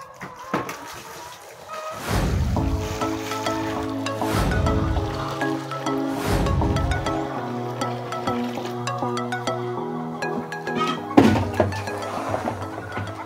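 Water poured into a 5-liter jerry can on a poultry farm, arriving in several bursts of gushing, splashing liquid, with the tone rising as the container fills, close and fairly loud with brief pauses between pours.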